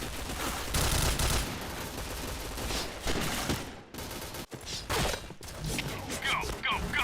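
Bursts of rapid automatic gunfire from a shooter video game, loud and dense, with brief gaps and sharp single shots toward the end, accompanied by game effects.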